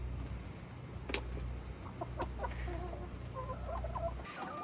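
Backyard chickens clucking softly near a coop, a few short murmuring clucks and calls over low steady background hum, no talking.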